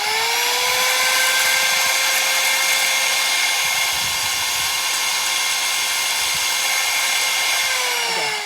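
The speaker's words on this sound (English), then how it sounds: "I'm going to use an angle grinder to just shave down the threads a little bit so it'll fit in" An angle grinder shaving down the threads of a bolt gives a loud, continuous high-pitched metallic whine with a slight drop in pitch as it ends.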